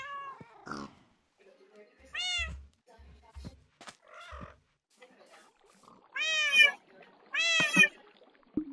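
Several drawn-out cat meows, some rising and falling, sound close and loud with quiet gaps between them, set against low thumps and some talking.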